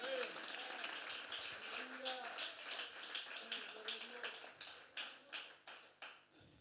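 A church congregation claps during a Spanish-language sermon, a moderate spread of hands that thins into a few distinct claps toward the end, with voices talking over it throughout.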